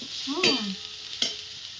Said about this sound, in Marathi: ही फ्लावर मस्तपैकी तेलात तळून काढला आहे